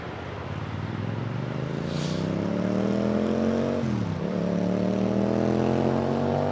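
An Airbus A380 jet spools up to takeoff thrust at London Heathrow. A loud, steady roar carries a whine that rises in pitch, dips briefly, then climbs again.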